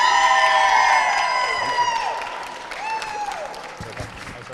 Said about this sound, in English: I'm asking you to give your hands together for Councillor Tom Cronin